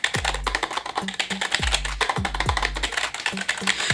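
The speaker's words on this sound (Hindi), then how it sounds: "इस टाइप की जो है ना मेम्ब्रेन कीबोर्ड की जो साउंड की होती है" Soft, muffled membrane keyboard key presses in an irregular typing rhythm, each tap dull and close, with a low background hum.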